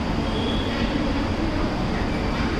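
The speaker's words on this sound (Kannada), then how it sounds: "ಟ್ರೈನ್ ಬಂದರೆ ನಿಮ್ಗೆ ತೋರಿಸ್ತೀನಿ" A train rumbles past close by, a steady, loud wash of wheel and rail noise with faint high squeal, continuous and alone with no talk.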